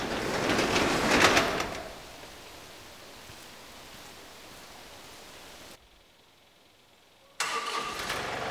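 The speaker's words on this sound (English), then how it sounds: "As cold as it was, the tractor started right up thanks to the plug-in engine block" A tractor engine with a plug-in block heater cranks and catches in freezing winter weather, a loud burst of starting noise followed by a steady low idle, a brief silence, then the engine sound returning.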